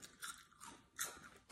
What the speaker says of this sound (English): It's very crunchy because it's hollow inside.